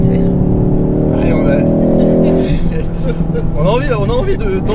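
A 2019 Ford Focus ST accelerates hard through corners on a track, its engine droning loud and close, rising and falling steadily, while a voice talks over it near the end.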